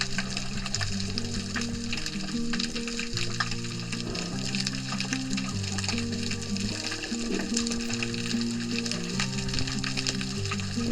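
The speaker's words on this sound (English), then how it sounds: "The crackling sound that you're hearing is actually the sound of the reef." Dense, continuous crackling and popping of a coral reef underwater off Baja California's East Cape, like a steady field of tiny snaps, with a low tonal murmur beneath.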